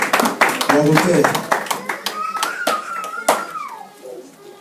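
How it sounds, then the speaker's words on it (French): A congregation at a French-language church service applauds loudly, a dense burst of clapping that thins out while voices carry on over it. "Acclamons très fort pour la parole de Dieu"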